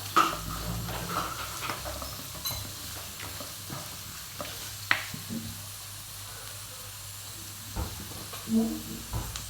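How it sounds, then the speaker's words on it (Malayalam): Onions being stirred in a frying pan for potato bhaji, with a soft steady sizzle and scattered scraping stirs against the pan, fairly quiet and close. "ഒന്ന് ചെറുതായി ഒന്ന് നമുക്ക് ഇളക്കിയെടുക്കാം"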